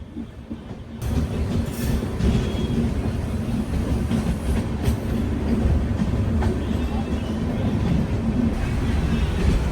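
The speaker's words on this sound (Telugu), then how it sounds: "హుబ్లీ నుంచి ఎంజీఆర్ చెన్నై సెంట్రల్ వెళ్ళే బండి" A Hubli to MGR Chennai Central train passes close by, a continuous heavy rumble and clatter of wheels on track that holds steady after a sudden onset.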